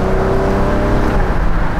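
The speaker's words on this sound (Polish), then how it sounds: "Silnik, no sam w sobie, no cóż, fajnie brzmi," Nissan Murano CrossCabrio engine revving up, a loud, steady close-up drone with a rising tone and a continuous hum from inside the car, no voices.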